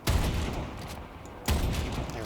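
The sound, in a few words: gunfire shooting a hyena in Warframe video game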